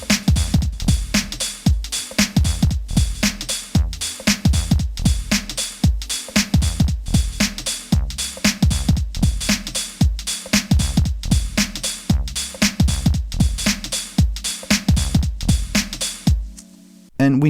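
A full, dense loop built on a Korg Volca Sample 2 plays its final fullest section, with steady, punchy drum hits and layered sampled parts repeating in a tight rhythm, loud and continuous until a brief drop near the end.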